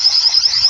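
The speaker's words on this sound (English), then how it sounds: "if I wanted to do the alarm, I go back one page. There's my alarm." A PIOJER solar wireless outdoor security camera sounds its alarm siren through its built-in speaker: a loud, steady, shrill electronic tone that holds without a break.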